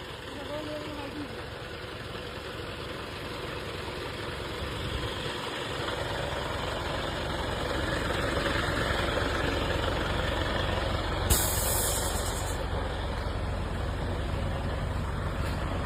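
A truck engine runs continuously with a heavy, low drone while the truck reverses in back gear. The engine swells slightly partway through, and a voice calls out directions over it.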